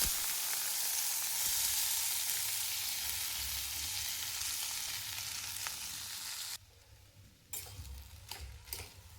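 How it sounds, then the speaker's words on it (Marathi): Corn kernels fry in a little hot oil in a kadhai, giving a steady, bright sizzle for several seconds that drops off abruptly, then returns with scattered crackles and pops. "तेल गरम झाले, मका टाकायचे आहे."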